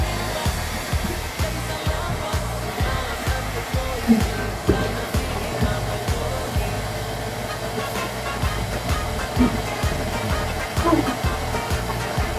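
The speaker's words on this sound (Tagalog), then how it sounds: "Good boy, blower time na tayo, Kuya Rick." A steady, loud roar of a pet blower drying a dog runs continuously, with faint clatter and small bumps, no talking over it.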